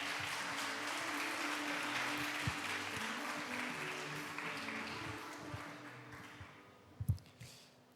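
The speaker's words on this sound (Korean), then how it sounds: "박수로 환영하겠습니다." An audience at a global citizenship forum applauds to welcome the next speaker, an even wash of clapping that gradually thins out, with a few last scattered claps and small knocks as it fades away.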